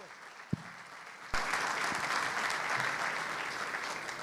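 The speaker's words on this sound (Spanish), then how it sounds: "Muchas gracias por los aplausos." After a quiet room with a single knock, an audience abruptly bursts into applause to welcome a speaker at a talk on modernising Puerto Quetzal, sustained and dense clapping filling the space.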